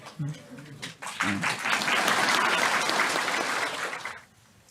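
An audience at a Buddhist sutra lecture breaks into sustained applause for a few seconds, following brief speech from a man, then the clapping fades out.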